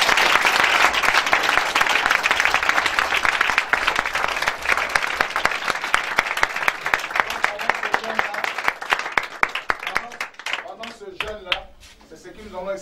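A church congregation at a Sunday evening deliverance service breaks into sustained loud applause, a dense wash of clapping that gradually thins into scattered claps while voices and music rise underneath.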